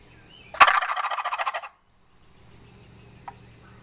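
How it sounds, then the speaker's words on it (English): Wild wild turkey gobbling once in a loud, rapid rattling burst from fairly close, answering a box call, followed by quiet outdoor ambience with no speech. "He gobbled right back to that box."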